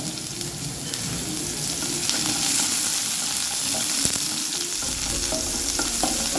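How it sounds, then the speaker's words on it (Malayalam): Chopped onion fries in a pan with cumin and mustard seeds that have already popped, for a Kerala-style spinach curry. A steady, close hiss of sizzling oil runs throughout, with light stirring scrapes and no voices. "ജീരകവും കടുപ്പൊക്കെ പൊട്ടി വന്നു കഴിയുമ്പോൾ നമുക്ക് സവോള ചേർത്ത് കൊടുക്കാം"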